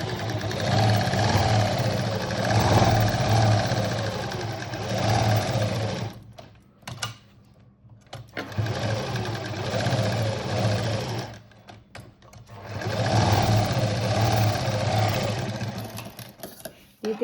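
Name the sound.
sewing machine stitching a saree-border patchwork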